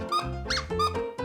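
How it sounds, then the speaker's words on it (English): Rubber-like squeaks from a novelty Rubik's cube, several squeezes in quick succession, close and fairly loud. "It also makes a good squeaky sound"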